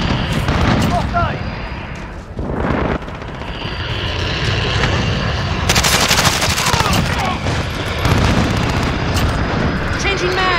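Gunfire in Call of Duty Modern Warfare multiplayer Domination, with dense automatic bursts and sharp shots crackling throughout under a loud battle mix, while voices shout over the fighting.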